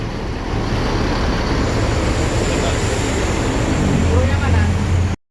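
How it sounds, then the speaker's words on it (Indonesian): Inside a Puspa Jaya Jetbus 3 coach bus, a steady broadband road rumble and engine drone fill the ride, loud and continuous before cutting off abruptly. "kita naik Puspajaya udah masuk Jet Bus 3"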